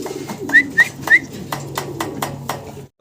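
Pigeons, including a large pair of Runt birds, coo close by in a repeated series of soft rolling calls, with a few sharp whistles over a low background murmur of voices.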